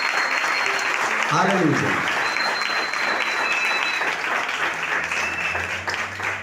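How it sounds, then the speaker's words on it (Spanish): A church congregation applauds steadily and loudly during a Spanish-language service, while a voice calls out briefly over the clapping. "brídenle un fuerte aplauso en esta tarde"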